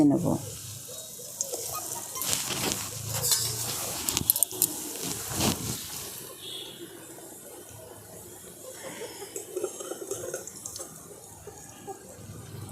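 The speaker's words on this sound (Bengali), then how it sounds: "একটা একটা যে পাউরুটিগুলো রেডি করে রেখেছিলাম একটা একটা দিয়ে আমি ভেজে" Bread slices frying one at a time in oil in a wok, a bubbling sizzle that flares loudly as pieces go in and then settles to a quieter crackle, with a brief spoken word early on.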